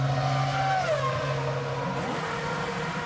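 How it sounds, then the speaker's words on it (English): A BMW Formula 1 car from the 2008 Chinese Grand Prix enters the pit lane, its engine a steady high whine that drops in pitch as it slows, with other engine tones overlapping throughout. "As into the pit lane comes Robert Kubica from what was 3rd place."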